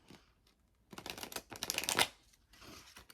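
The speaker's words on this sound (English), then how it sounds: "I am going to cleanse my tarot deck just by shuffling it" A tarot card deck being shuffled by hand, soft riffling and flicking bursts of cards, fairly quiet and close, with short pauses between passes.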